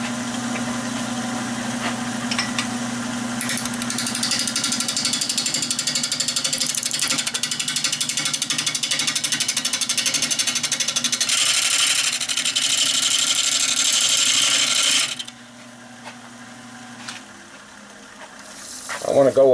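A wood lathe spins an oak bowl at 700 RPM with a steady, loud motor hum and a broad airy whir. The noise cuts off abruptly near the end, leaving quieter room sound and a few knocks.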